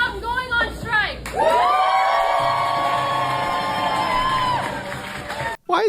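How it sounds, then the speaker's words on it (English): A crowd cheers and whoops loudly at a Starbucks workers' walkout, the voices swelling into sustained shouting that carries for several seconds before cutting off, with people talking before and after. "Why is everybody cheering?"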